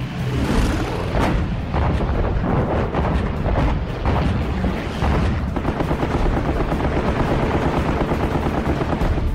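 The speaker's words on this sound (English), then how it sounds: "The gutsy pilots brave a sky torn with flak." Heavy anti-aircraft flak bursting around the battleship Musashi during an American carrier air attack at Leyte Gulf, a dense, continuous roar of rapid gunfire and booms, loud and close throughout with no talk.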